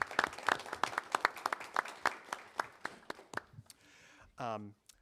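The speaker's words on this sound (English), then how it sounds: "So just clap some recognitions to them." Scattered applause from an audience at a board of education business meeting, a few distinct hand claps spaced out over several seconds that taper off, followed by brief murmuring and a short tonal sound at the end.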